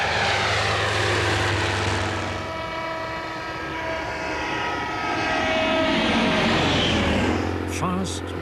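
A Bristol Fighter biplane of the First World War flies with its piston engine droning loudly, the pitch sweeping as it passes close by and fades.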